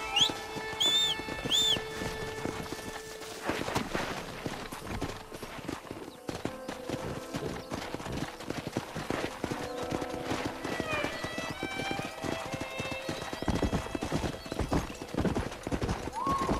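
Galloping horses in the video game Red Dead Redemption, a steady clip-clop of hooves with occasional whinnies and neighs, fairly close and continuous over game music and ambience.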